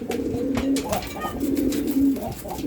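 Pigeons coo close by in a loft, a pair newly re-paired after a month and a half apart, low throaty rolling calls repeating in bursts over about three seconds with faint background noise.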